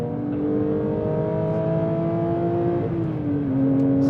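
Porsche 911 GT3 with a manual gearbox, engine droning steadily while driving, its tone held then shifting in pitch as revs change, close and loud with no talk.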